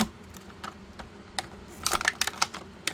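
Small, sharp snips and clicks of plastic toy accessories being cut off a sprue from a retro wave turtle figure set, close and fairly crisp, several in quick succession near the end, with no talking.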